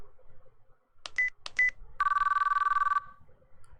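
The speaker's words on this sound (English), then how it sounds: "The phone rang for a moment" In the video game Chaos;Child, a phone dials two quick tones, then a telephone ringback buzzes in a steady electronic trill for about a second, clear and alone.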